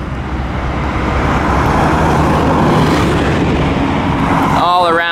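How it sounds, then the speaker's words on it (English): Buses roll past a theme park construction site in Orlando, a loud, steady low engine and road rumble swelling and holding close by, with a voice starting to speak at the very end. "Just a couple buses passing right now."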